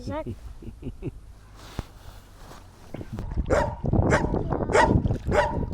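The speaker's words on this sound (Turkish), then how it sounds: "bize sinir olan köpek burada." A dog barks repeatedly in sharp bursts, close and loud, some yips mixed in, while people talk nearby.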